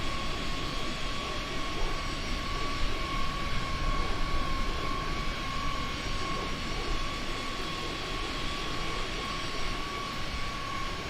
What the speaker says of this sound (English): what do you think of the sounds of the plane?